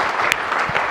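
Hand clapping in a Hindi courtroom comedy scene, a brief burst of steady, close claps.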